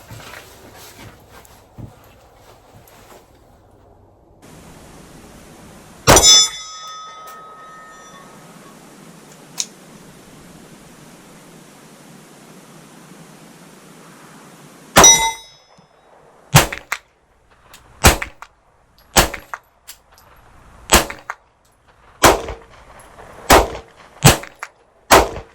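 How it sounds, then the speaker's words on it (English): A Glock 26 pistol fires a series of shots, each followed by a ringing clang from steel targets at about 100 yards, first spaced widely and then coming in a quicker, steady run, with faint ambient noise between. "see if I can hit anything with the Glock 26"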